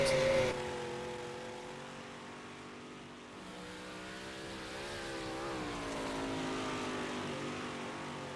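Engines of 358 modified dirt race cars at Knoxville drone in a sim racing game, a pack of harmonic tones rising and sliding together as the cars roll and accelerate, steady and moderately loud.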